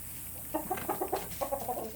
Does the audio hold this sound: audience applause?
no